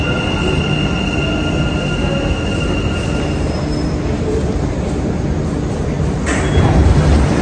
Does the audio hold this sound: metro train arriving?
yes